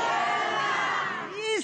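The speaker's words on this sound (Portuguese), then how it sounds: "Isso é pra você, esses aplausos, viu?" A studio audience on a Brazilian talk show cheers and shouts loudly, a dense continuous crowd roar that fades slightly near the end as a voice rises above it.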